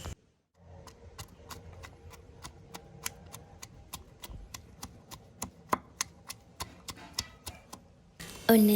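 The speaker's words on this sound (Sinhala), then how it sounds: "ඊළඟට ඉඟුරු එනසාල් සුදු ලුණු වංගෙඩි දාලා හොඳට කොටා ගන්න ඕනේ." Ginger, cardamom and garlic pounded in a mortar for a wambatu moju, heard as a steady run of sharp, evenly spaced knocks, close and clear, with no voices.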